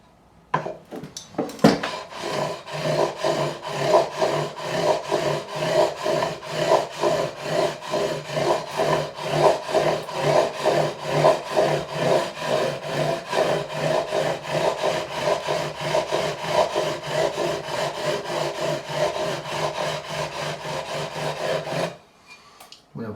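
A fret file with 400-grit abrasive is worked back and forth over the frets of a Gibson ES-335 guitar during a fret level, giving a continuous rhythmic rasping scrape for about twenty seconds.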